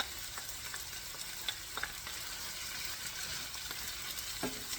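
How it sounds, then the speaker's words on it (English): Garlic hits a hot pan and sizzles in a steady, bright hiss with light stirring clicks, prepared for onions stuffed with ground meat and pine nuts. "Add your garlic."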